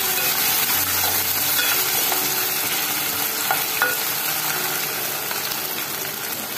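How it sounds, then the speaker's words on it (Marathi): Green masala garlic bheja fry sautéing in a pan, a dense, steady, fairly loud sizzle with occasional faint stirring scrapes. "थोडंसं परतून घ्या."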